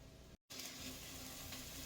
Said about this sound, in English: So now this is simmering.